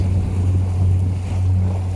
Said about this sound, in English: Always so spectacular when the waves crash on the rocks like that.